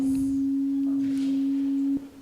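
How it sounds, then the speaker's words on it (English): Steady pure sine guide tone from UPISketch drawing software, a single unwavering pitch held loud for about two seconds before cutting off abruptly. "What we hear now is not the sound. It's just a sine wave to know where we are."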